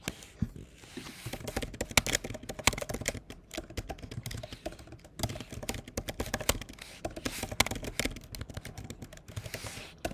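Rapid, irregular clatter of keys being typed on a computer keyboard, close and fairly quiet, continuing in bursts for around ten seconds with no voice.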